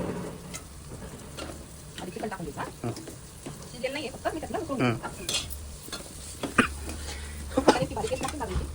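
Chicken for biryani, first simmered plainly in salted water, tipped into a pan and stirred, with scraping, clinks and a light sizzle running through and a voice talking now and then over the cooking noise.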